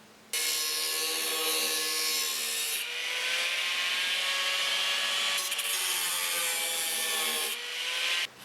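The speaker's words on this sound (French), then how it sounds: "il va falloir couper plus haut la tôle pour aller pouvoir intervenir derrière." Harsh, steady cutting of sheet metal on a Citroën Traction body panel, a loud, close rasping whine that runs for several seconds, eases briefly, then continues before cutting off abruptly, with no speech.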